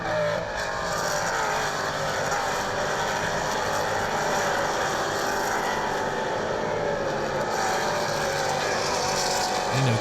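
Maserati Trofeo race cars lap the Road America circuit, their engines blending into a loud, continuous high-revving drone with shifting pitch as the cars pass, and no voices.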